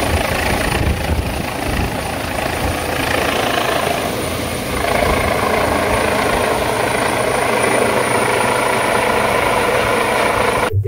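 A rescue helicopter's rotor and engine thrum loudly and continuously nearby in the Retezat Mountains, a steady pulsing whir that holds for the whole stretch.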